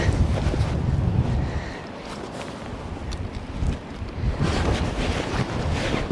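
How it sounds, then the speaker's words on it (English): Strong wind whips across sea cliffs on the Scottish Border coast near Eyemouth, a loud continuous buffeting roar in the microphone with gusts rising and falling and the wash of surf beneath. "The forecast wind is really picking up."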